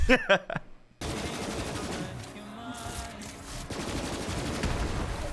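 Rapid automatic gunfire from a weapon in the video game Borderlands 3, a dense sustained burst of shots after a brief opening of other game sounds.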